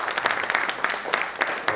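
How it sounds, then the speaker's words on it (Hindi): Brief applause from an audience honouring soldiers at the Khadki paraplegic rehabilitation centre after a sung performance, crisp separate claps merging into lively clapping for under two seconds, with no speech. "तालियां बजाएं"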